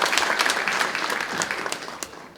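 Applause breaks out for a guest introduced at a fishing-boat safety policy forum in Incheon, a steady crowd clapping with sharp individual claps standing out over 2 seconds.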